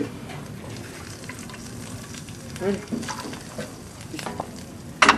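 Massaman curry paste frying with coconut milk in a hot pan, a steady soft sizzle and crackle with occasional stirring scrapes, close and moderately loud, with no voices.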